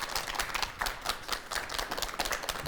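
An audience at a parenting education lecture applauds, with sharp, dense handclaps forming a lively, fairly close burst of clapping with no talk over it.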